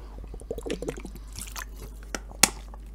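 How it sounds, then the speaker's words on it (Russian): Drinking water: several wet swallows and gulps close up, then a few faint liquid drips and one sharp click, with no talking. "Я пока попью воды."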